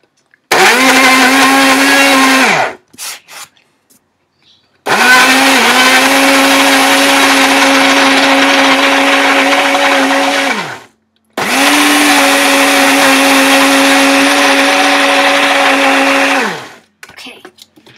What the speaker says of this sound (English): And then lock it into your blender.